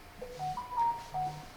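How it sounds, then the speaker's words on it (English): A short, quiet electronic chime of a few rising tones from a cell phone text message notification, alone in the background during a golf course walkthrough. "I just got a text on my cell phone."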